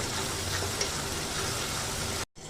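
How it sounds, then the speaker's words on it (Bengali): Onion and ginger paste frying in oil for a cauliflower curry, a steady close sizzle running throughout with no voices, cut off by a brief silent gap near the end before resuming. "এবার আমি পেঁয়াজ আর আদাটাকে খুব ভালোভাবে কষিয়ে নেব"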